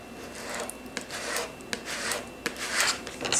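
A squeegee presses transfer tape down onto a small Cricut vinyl decal. The scraping and rubbing is soft, close and continuous, with a few sharper scuffs and no talking.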